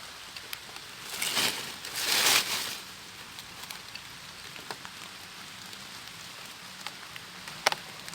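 Rain falling steadily outdoors in a wooded area, a soft continuous patter with two brief louder surges of heavier drumming early on and occasional sharp drips after.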